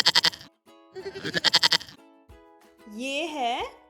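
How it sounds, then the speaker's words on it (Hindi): A goat bleats in two quavering, vibrato-laden bursts, close and clear, with a person speaking briefly afterward. "गोट। गोट मीन्स बकरी।"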